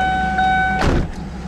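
A 2002 Ford Thunderbird's electric window motor whirs briefly as the glass lowers, ending in a soft thump as it stops, over a steady low 3.9 V8 idle.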